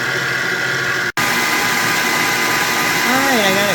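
Electric mixer whipping heavy cream into butter, a steady loud motor whir droning continuously with a brief cutout partway through.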